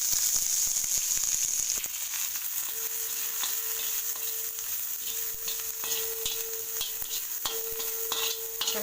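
Chopped onion and green chili sizzle steadily in hot oil in a pan. The hiss is constant and close, with occasional stirring taps against the pan.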